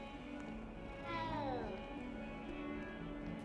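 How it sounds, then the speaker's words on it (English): A cat in the video game Hogwarts Legacy lets out a single drawn-out meow, rising and falling over about a second, heard over steady game ambience and background music. "What's that? A cat? We'll pet the kitty."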